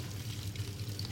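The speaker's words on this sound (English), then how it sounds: "add water and I give a small rotate to mix the water well with the powder" Water pours into a semi automatic washing machine tub holding detergent powder on an intensive wash setting, a brief close, steady gushing splash with a low hum beneath and no talk.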